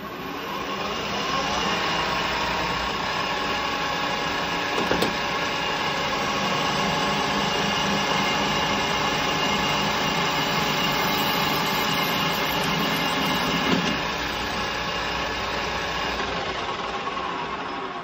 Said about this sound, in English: Now the idea is I'm going to part this off, but I'm not going to part it all the way through.